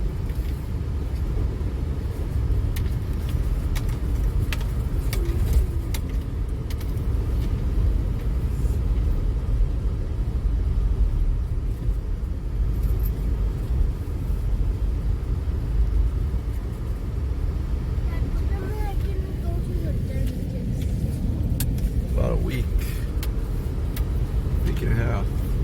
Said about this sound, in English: Got the rig in 4-wheel drive, and some of these corners are still pretty treacherous.